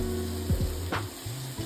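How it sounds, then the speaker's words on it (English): Onions frying in a pan for a chicken stir fry, a steady close sizzle with a brief clatter of stirring partway through and a low hum underneath. "Okay, so we're putting our onions in"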